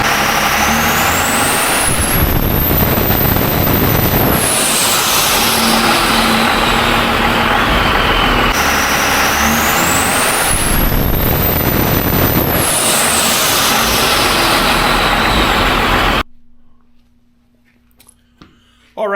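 VE Cummins diesel truck engine under load on a dyno pull, loud roaring runs that climb in pitch, two pulls back to back with a drop between, then cutting to quiet idle and faint clatter near the end.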